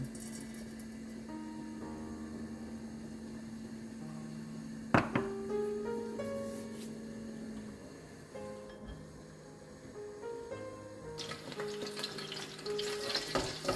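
About half a cup of cooking oil sizzles and fries in a pan at home for chicken pasta, a steady crackling hiss with a sudden clatter midway and stirring sounds, close and faint without talk.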